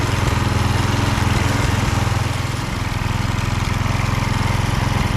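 A Husqvarna HU 625HWT string trimmer, just repaired and running outdoors, holds a steady, loud engine drone throughout, with a brief dip in pitch partway before settling back to an even run.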